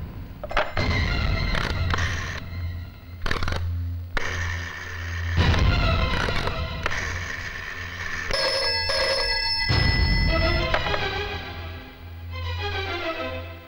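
An old-style telephone bell rings in repeated bursts, punctuated by heavy dramatic thuds and booms, loud and close.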